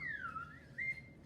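A slide whistle gives a short gliding tone, sweeping down in pitch and then jumping back up to a brief higher note, clear and fairly quiet, with no talking.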